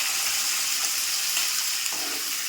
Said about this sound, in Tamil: ஃப்ரெண்ட்ஸ், இங்கே பார்த்தீங்கன்னா வெங்காயம் நல்லா வதங்கிடுச்சு. இந்த சமயத்தில் நம்ம இந்த பேஸ்ட் வந்து சேர்த்துக்கலாம்.